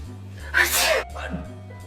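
A single sharp sneeze bursts out midway, loud and close, over a steady low hum in the room.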